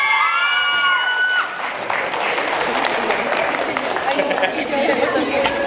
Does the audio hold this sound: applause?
yes